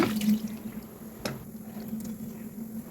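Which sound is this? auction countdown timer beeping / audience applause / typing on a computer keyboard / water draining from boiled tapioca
water draining from boiled tapioca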